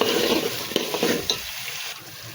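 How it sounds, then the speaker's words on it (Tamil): Peeled garlic cloves sautéing in a pan for garlic pepper kuzhambu, a close, steady sizzle with soft stirring scrapes over about two seconds, fading slightly toward the end. "பூண்டு போட்டு நல்லா வதங்கட்டும்."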